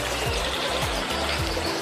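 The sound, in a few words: stream flowing at Yalova thermal springs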